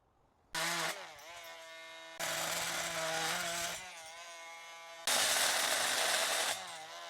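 Laser-guided power saw cutting wood for a modern side table, loud whining bursts that start and stop three times, each cut rising sharply then settling, close and alone without talk.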